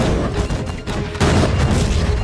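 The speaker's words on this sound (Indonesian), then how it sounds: "Beberapa tembakan mengenai monster itu dan menghancurkan kulit kerasnya." Loud, rapid gunfire with heavy booming bursts that overlap into a continuous barrage, close and intense.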